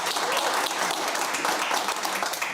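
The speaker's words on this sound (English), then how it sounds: "Big round of applause" A studio audience bursts into applause to welcome a guest on a talk show, a loud, bright flurry of many clapping hands, close and continuous.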